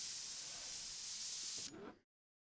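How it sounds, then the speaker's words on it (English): An airbrush sprays paint in a steady, loud hiss for about a second and a half, then sputters briefly and cuts out as the spray stops. "This is also a great way to see if your brush is clean because it stops spraying"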